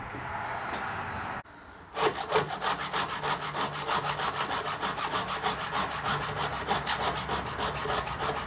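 A chainsaw chain clamped in a vise being sharpened with a hand file, a rapid series of rhythmic rasping strokes, close and clear after a brief pause, no voices.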